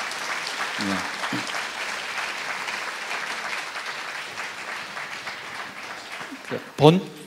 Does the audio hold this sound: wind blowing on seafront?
no